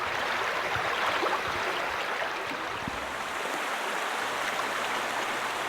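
Steady broadband rushing of a river flowing beneath an ice bridge in a boreal forest in deep winter, a constant, even wash of water with a faint low hum entering near the end.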